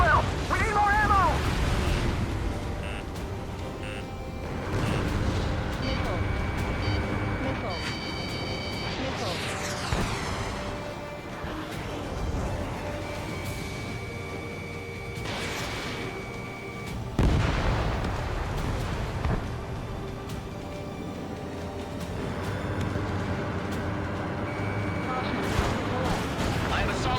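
Combat in the video game Ace Combat 7: dense gunfire and heavy artillery booms rumble continuously, with explosions and radio chatter layered through a loud, chaotic battlefield mix, and people talk over it.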